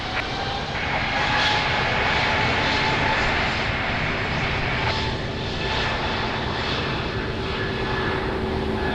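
An airplane takes off from runway 02 at Lisbon Airport, its engines giving a loud, continuous roar that holds steady for the whole nine seconds at moderate distance.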